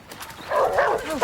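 A dog gives a brief, close bark and yip amid a tense crowd scene, with raised voices in the background.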